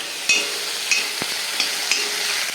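Ragi and cabbage mixture sautéing in a pan, a constant soft sizzle broken by a few sharp spatula scrapes and taps, close and with no speech.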